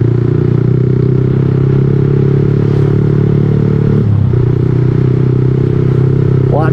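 A motorcycle engine runs out of fuel, holding a loud, steady idle drone that stumbles and dips midway, then carries on rough and uneven, close by.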